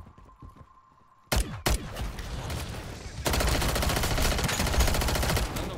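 Gunfire in the MW3 Zombies video game: a couple of loud single shots, then a sustained rapid burst of automatic fire that keeps going to the end, with faint game ambience beforehand.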